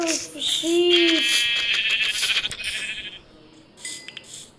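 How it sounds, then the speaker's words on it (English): Sheep bleating in the Minecraft video game, a couple of wavering bleats up close in the first second or so, followed by brighter game effects and a faint voice. "Sheep."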